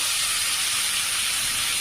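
Boiled chickpeas fry with onion, chili and turmeric in a pan, giving a continuous loud, close hiss of sizzling oil that holds steady without pauses.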